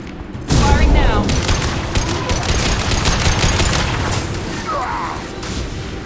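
Gunfire in the video game Mass Effect 2 on Insanity difficulty, a sudden loud burst of rapid shots followed by sustained crackling fire and booms, with game voices mixed in.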